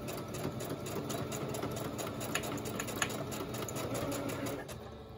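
A sewing machine backstitches in a steady, rapid mechanical whir with fine clicking needle strokes, close by and running continuously before slowing near the end; no voices.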